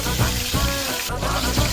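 Food frying in oil in a home kitchen pan while making tomato gojju, a steady close sizzle and crackle running under faint clatter throughout the short stretch.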